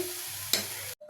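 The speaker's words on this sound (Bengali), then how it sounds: "এই যে নারকেলগুলো পাকায় নিলাম, একবার শুকনো শুকনো করে নিচ্ছি।" Grated coconut is stirred and dry-roasted in a pan, giving a brief, quiet scraping sizzle with one sharper scrape before it cuts off.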